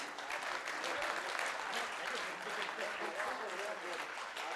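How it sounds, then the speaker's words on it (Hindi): Audience applause at a memorial lecture series event in India, a dense, steady wash of many hands clapping at once that holds evenly for several seconds with no voices rising above it. "एक बार तालियां उठे भाई सबकी।"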